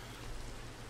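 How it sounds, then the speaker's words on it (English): Steady rain hiss in a Minecraft Pixelmon game, soft and continuous, with a low rumble underneath; no talking. "I know it's raining."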